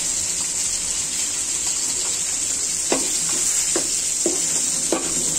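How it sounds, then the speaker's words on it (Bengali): Spice paste frying in a pan while being stirred for a koi fish dish, with a steady hiss and soft scraping strokes recurring every second or so, close and moderately loud, no voices. "এখানে মশলাটা আমি ভেজে নিব।"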